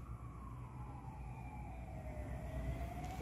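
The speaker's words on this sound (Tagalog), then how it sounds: "Ayan, ang daming wangwang pa rin." Emergency vehicle sirens wail at a distance at midnight during a community quarantine, a long falling tone over a low steady rumble of traffic.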